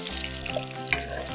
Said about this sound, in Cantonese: 將嗰啲薑塊半煎炸咁樣將佢炸香